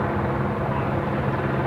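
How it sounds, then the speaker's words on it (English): A steady low mechanical roar of a helicopter overhead at Sydney Airport, droning constantly at a moderate level with no talk on top. "this helicopter's getting annoyingly loud"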